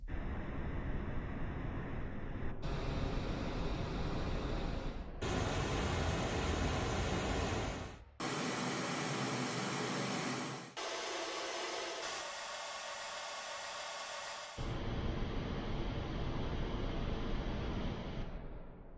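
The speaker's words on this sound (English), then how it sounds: "dedicated sort of synth patches that give you that general noise" A sequence of steady synthetic noise hisses, each held for a few seconds then switching abruptly to another with a different tone, some brighter, some darker.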